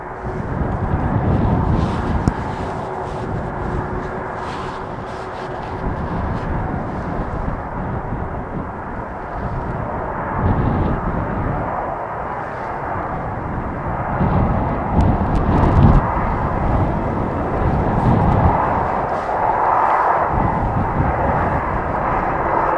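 A jet airliner roars past near Amsterdam Schiphol Airport by runway 36L, a steady broad rumble with gusts of wind buffeting the microphone, continuous and fairly loud throughout.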